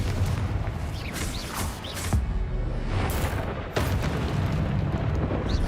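Fiery spell explosions from Confringo in the Hogwarts Legacy video game, a dense, continuous rumble of booms and bursts with sharp cracks near 2 and 4 seconds, loud and close.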